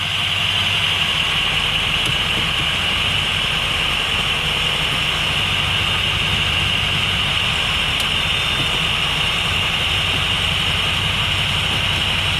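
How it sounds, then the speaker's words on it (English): A Ford Super Duty pickup with a 5R110W automatic transmission idles in tow haul mode with the brake held while being cycled through its gears, giving a steady, continuous engine hum with no talking. "we're going to put it in tow haul mode, and we're just going to hold the brake down and cycle through the gears."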